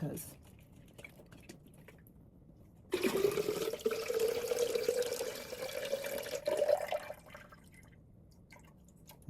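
Water is poured from a tap over sprouting broccoli seeds in a jar, a steady splashing stream for about four seconds that starts and stops abruptly, set between quieter stretches of faint drips and room noise.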